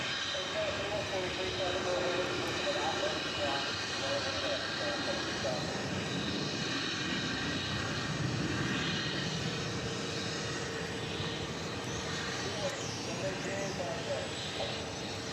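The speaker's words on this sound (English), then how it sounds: "And I think it's going to get clearance to take off on runway 18 left." UPS heavy jet airliner on the runway at DFW Airport gives a steady, distant engine rumble and whine that holds throughout, with faint talk and radio chatter over it.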